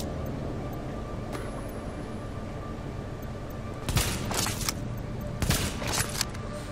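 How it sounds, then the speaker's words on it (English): Bursts of gunfire in The Division shooter game: two clusters of rapid shots over a steady background ambience, fairly close and without speech. "Run around until people shoot at me."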